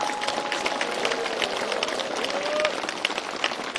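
An audience applauds at the ground-breaking ceremony for the Cheongshim Peace World Center, steady dense clapping from a large crowd that continues throughout, with a voice faintly audible beneath.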